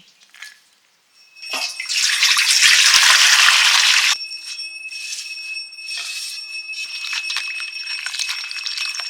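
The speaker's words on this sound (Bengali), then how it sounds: "এবার আমি পাতাটা ভালো করে ধুয়ে নিচ্ছি কপি পাতা তো একটু ভালো করে ধুতে হয়" Cauliflower leaves being washed by hand in water, with a loud splashing and rushing stretch followed by softer sloshing and dripping, close up, no talking.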